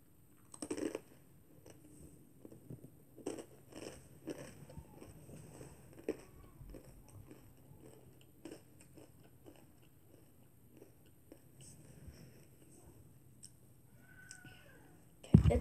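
Takis chips being bitten and chewed, scattered crisp crunches and clicks close to the mic over a quiet background, with a louder burst at the start and end.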